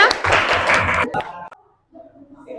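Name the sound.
classroom applause for a student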